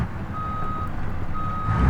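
A truck backing a trailer sounds steady reversing beeps, two long evenly spaced tones over a low engine rumble, close and clear.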